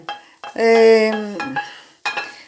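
Scooped eggplant flesh is tossed into browned ground meat in a frying pan with the gas off and stirred, giving close, loud utensil scrapes with a squealing, tonal drag and a few short clinks.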